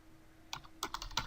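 Keystrokes on a computer keyboard while entering an nmap command, quiet at first and then a close, brisk run of about half a dozen distinct clicks with no talking.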